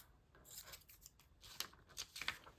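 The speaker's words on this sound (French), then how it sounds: "Ça, je vais venir le couper comme ça." Scissors cutting through paper for a dress-themed collage, several quiet close snips and crisp slicing strokes in a short run, with no talking.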